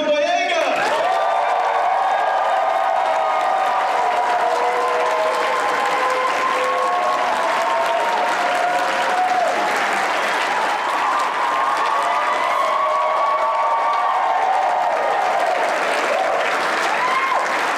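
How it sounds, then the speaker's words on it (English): Large convention panel audience bursting into sustained applause and cheering at a fan expo as a guest is welcomed, dense clapping and whoops lasting the whole stretch, loud and steady with a busy crowd roar behind it. "huge round of applause where he can hear you in the galaxy far"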